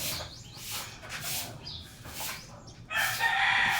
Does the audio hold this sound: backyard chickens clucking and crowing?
yes